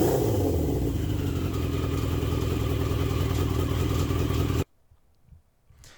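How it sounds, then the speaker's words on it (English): A 40-year-old Yamaha XJ650 motorcycle engine runs with a baffled exhaust, a loud, steady, close-up drone with a low throbbing note. It holds for several seconds, then cuts off abruptly, leaving near silence. "Versus the baffled exhaust, much more subdued. A bit more of a note to it, but still actually super loud."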